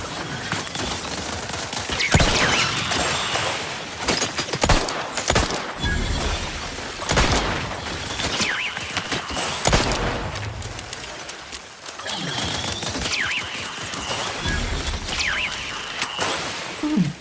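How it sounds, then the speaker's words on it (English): Combat in The Outer Worlds 2 video game, with a grenade blast amid continuous dense gunfire, crackling bursts and shattering impacts filling the whole stretch at close, loud level. "They explode, nice. Grenade."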